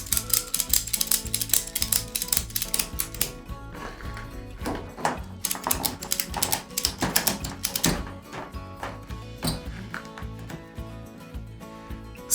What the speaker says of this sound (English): Once you've done that, start ratcheting.